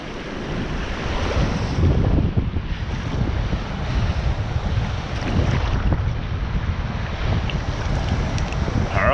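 Ocean waves wash steadily onto a beach at Goolwa, South Australia, during cockling, a loud continuous roar of surf with heavy wind buffeting the microphone throughout.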